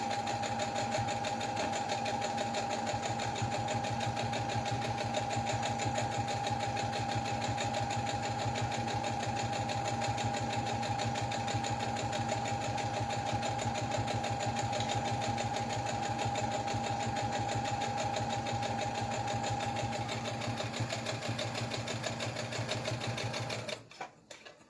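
Sewing machine stitching a tree napkin runs in one long, steady, rapid mechanical hum with a fast needle rhythm, close and continuous for over twenty seconds before stopping abruptly at the end.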